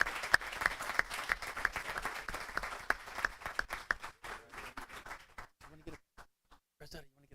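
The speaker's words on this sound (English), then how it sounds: "One more time, round of applause for those who are here." Applause for students at a school board of education meeting, with many hands clapping close up, then thinning to scattered claps and fading out.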